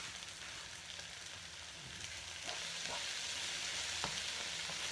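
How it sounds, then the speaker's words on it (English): Spring greens fry in a pan for vegetable fried rice, giving a soft, steady sizzle with faint crackles and a few stirring knocks, growing slightly louder partway through. "So we're going to fry that,"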